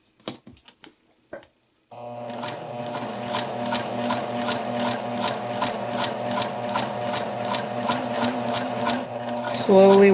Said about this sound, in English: I'm doing my best to follow the seam guides on my needle plate on my machine.